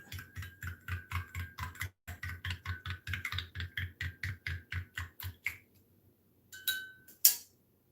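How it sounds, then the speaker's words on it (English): A silicone mold mixture being stirred, heard as a quick, steady series of close tapping clicks from a tool knocking against a container, then a pause and a few scattered clinks at the end. "Now I need to, stir it up a little bit."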